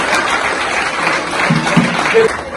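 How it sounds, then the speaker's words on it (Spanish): A crowd at an outdoor gathering of the Ngäbe-Buglé and campesino movement in Panama claps in a sustained, even wash, with a few voices calling out briefly beneath it. "Compañeros, un fuerte aplauso para todos ustedes"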